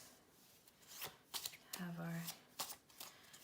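Tarot cards being shuffled off to one side, giving a few quick papery riffling bursts that rise and fall in short clusters beneath a person talking.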